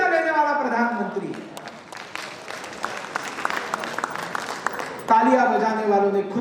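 Audience applause at a cleanliness award ceremony in Varanasi, a sustained burst of clapping from a large crowd lasting several seconds, bracketed by someone speaking Hindi before and after.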